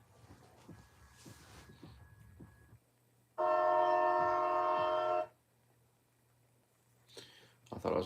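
A loud, sustained train horn blasts for about two seconds, standing out sharply over a quiet low rumble, with soft background noise before and after.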